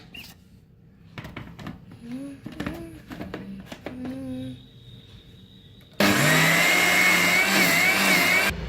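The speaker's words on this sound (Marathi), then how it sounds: "झाकण लावून मिक्सरला लावून घेऊया" Quiet clinks and handling noises, then a mixer grinder abruptly roars to life, loud and steady whirring for the last few seconds.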